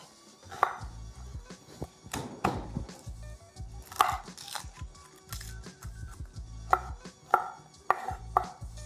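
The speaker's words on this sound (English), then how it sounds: "Also going in with 2 medium-sized onions. I just want to give these a rough chop." Two medium onions get a rough chop with a knife on a board for falafel, sharp close knocks landing in irregular bursts with quiet pauses between.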